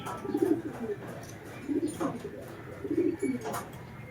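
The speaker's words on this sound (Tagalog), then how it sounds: "Ibon natin." Pet pigeons or doves cooing in the rain, soft repeated low coos in three or four bursts over a steady patter of rainfall, moderately near.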